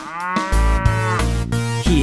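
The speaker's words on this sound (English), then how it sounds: "Cow." Loud, drawn-out mooing from a cow, a couple of long low calls heard alone and close, as part of a children's animal-sounds song.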